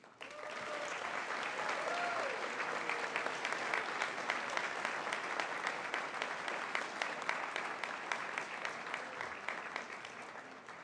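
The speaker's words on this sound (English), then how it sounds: "Give yourselves a round of applause and congratulations" Sustained audience applause at a fall induction-to-the-profession ceremony, dense and steady for about ten seconds, full and moderately close, with a few faint voices mixed in.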